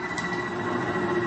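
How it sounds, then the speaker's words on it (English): Generators building up power for a remote-controlled atomic motor test hum steadily throughout, a dense mechanical drone with a strong sustained tone and constant loudness, close and continuous. "The sound you hear is our generators here, building up power to supply the motor by remote control."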